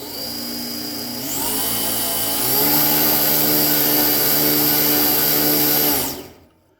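A bench belt grinder for knife sharpening runs alone with a loud, steady whine that steps up in pitch twice as its speed rises, then cuts off sharply at the end.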